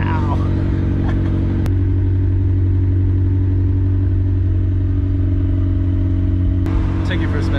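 A car engine rumbles loudly and close, with a strong exhaust tone and a sharp rev near the start and again toward the end, a voice speaking briefly alongside.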